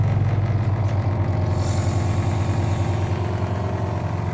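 A high-pressure portable extraction machine starts up with its pump running steadily, a loud, close, continuous motor drone with a bright hiss that rises as the pump builds back pressure with the wand shut.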